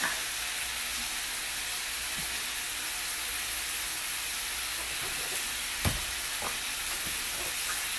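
Lean hamburger meat seasoned with chili powder fries in a pan for spaghetti, giving a steady close sizzle and hiss with a few soft stirring knocks, and no voices.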